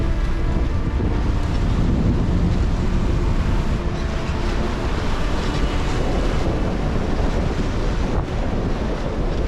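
Strong wind of about 28 knots roars continuously on the North Atlantic, mixed with rushing water and surf, loud and unbroken from start to finish.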